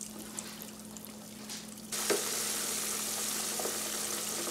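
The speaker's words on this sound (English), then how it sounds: "And you deep fry them until it becomes golden brown." Lobster tails go into hot oil for deep frying: a quiet kitchen hum gives way to a sudden loud, dense sizzle that continues steadily and close.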